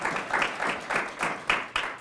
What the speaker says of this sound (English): Could we give everybody that puts this together a little round of applause